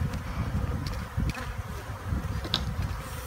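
Aggressive wild bees in Arizona swarm with a dense, continuous buzzing drone, loud and close, with no voices.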